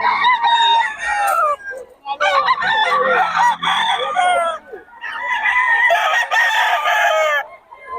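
Roosters crow repeatedly at a farm where chickens are kept on a rainy day, three loud, close, drawn-out crows with short gaps between them, alone without talk.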